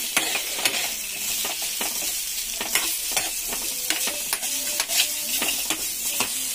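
Sweet potato pieces tossed into a hot pan with cumin and stirred, giving a steady bright sizzle broken by repeated scraping strokes of the spatula, close and continuous, with no talk.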